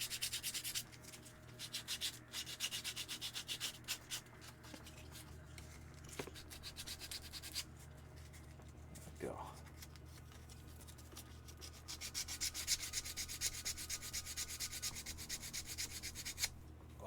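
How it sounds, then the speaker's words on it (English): Hand sanding of a small cosplay part with a worn, overused piece of sandpaper: quiet, close, rhythmic rasping strokes in bursts, pausing briefly in the middle before the scrubbing resumes. "Overused piece of sandpaper. These things actually work really well for little bits like this."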